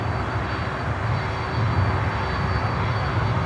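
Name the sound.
C-130 aircraft with contra-rotating propellers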